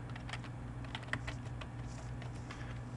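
Fingers type steadily on a computer keyboard while editing Lisp code in the 1980s Interlisp SEdit editor, producing a run of light, close key taps over a constant low hum.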